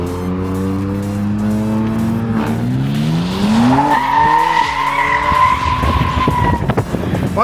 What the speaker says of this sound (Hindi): M2 boys being M2 boys, हर मोड़ पे ड्रिफ्ट हो रही है गाड़ी।